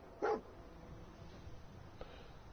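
A single short dog bark from the game Fallout 4, fairly close and clear, followed by quiet background ambience and a faint second yelp near the end.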